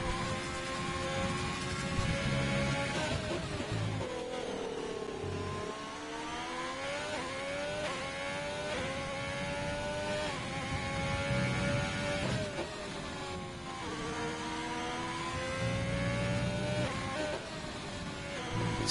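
Onboard F1 car engine in a sim racing game, a high-pitched whine rising through the gears with repeated upshifts and dips under braking, steady and close.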